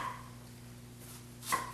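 A knife chops an onion into fine cubes on a board. The strokes come as soft, faint taps, with one sharper cut near the end, over a quiet hum.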